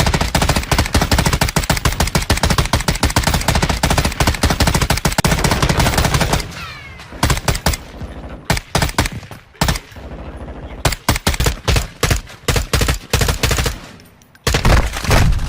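Rapid bursts of video game machine-gun fire, loud and dense for several seconds, then breaking into separate short volleys and single shots with brief gaps.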